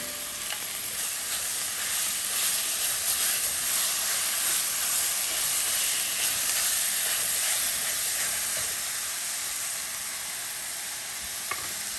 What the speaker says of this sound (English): we're gonna sear it for 2 minutes